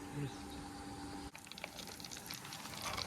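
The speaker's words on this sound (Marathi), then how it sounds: "हे बघा हे असं बॉईल होतं आहे" Oil boiling in a pan for mango pickle gives a steady bubbling, sizzling hiss that runs the whole time at close range, with a brief dip partway through.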